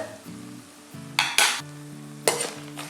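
Urad dal and chana dal roast with groundnuts in a pan, a gentle dry sizzle broken by a few loud scraping stirs of a spoon against the metal, over a low background musical hum.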